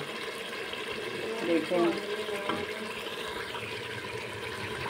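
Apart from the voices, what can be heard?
water being poured into a pot of fried mutton trotters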